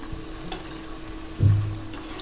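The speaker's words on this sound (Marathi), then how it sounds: "सावकाश आपण मंद आचेवर चांगले ते तळून घ्यायचे आहेत" Wheat flour chakli deep-frying in oil over a low flame, a quiet steady bubbling sizzle close by, broken by a couple of faint clicks and one brief louder scrape of a utensil in the pan.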